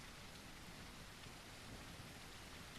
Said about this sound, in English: it is a tropical island. I don't know why I'm acting surprised, but it's just constantly raining